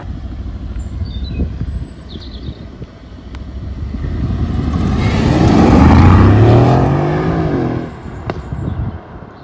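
Aston Martin Vantage V8 engine while driving, a low rumble that swells into a loud rising rev and then eases back, heard from inside the car without talk.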